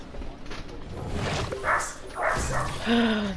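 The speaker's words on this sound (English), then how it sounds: "Sorry if you guys hear any barking in the background." A pet dog barks and yips in the background of an indoor room, somewhat distant and intermittent over a few seconds, with a faint voice nearby.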